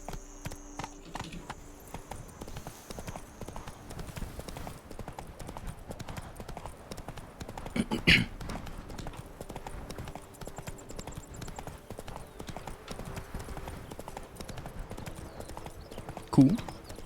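Roach, a horse in The Witcher 3 video game, trots across the countryside with steady, rhythmic clip-clop hooves at moderate volume, and someone speaks over them at times.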